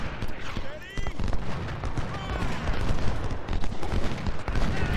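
Cannon and rifle fire rumble through a Civil War battle in the strategy game Ultimate General: Civil War, with dense overlapping booms and crackling volleys, some near and heavy, others distant, continuing steadily throughout.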